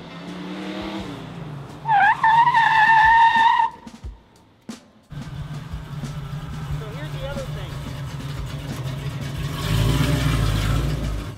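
A Mustang's tire squeals in a sustained, wavering screech for under two seconds as it brakes hard and a rear drum brake locks up, followed by engine rumble and a voice talking.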